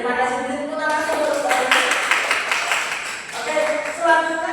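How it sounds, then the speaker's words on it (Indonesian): Scattered clapping in a university classroom, a short burst of hands in the middle under and between talking voices, with speech before and after. "Beri tepuk tangan dulu."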